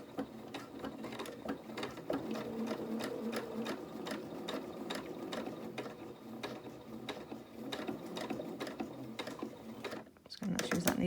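A sewing machine runs close by, stitching fabric for a head wrap with a fast, even mechanical rattle and regular ticking beats, then pauses briefly near the end before restarting.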